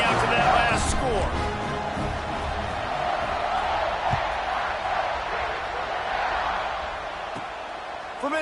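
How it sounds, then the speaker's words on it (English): Stadium crowd in a college football video game buzzes steadily throughout, a dense roar of many voices with occasional louder whoops, running continuously at a fairly even level. "this crowd is buzzing after that last score"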